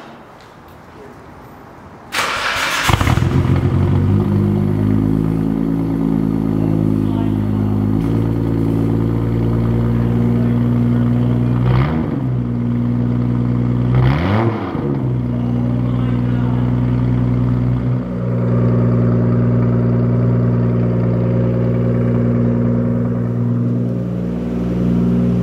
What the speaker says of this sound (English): This is going to be the first start, first cold start with the brand new Tomei exhaust.